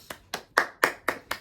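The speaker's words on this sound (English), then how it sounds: "Round of applause." A single person claps hands six times in a steady, even rhythm, each clap sharp and close, with no voices.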